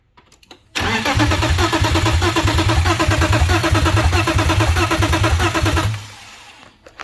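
BMW E30 with a swapped S52 engine cranking over without starting, a loud steady rhythmic starter churn lasting about five seconds close by, then stopping; the engine has fuel but no spark.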